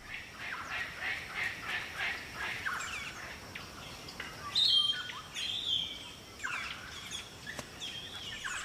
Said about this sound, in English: The local birds gather at trees that are fruiting.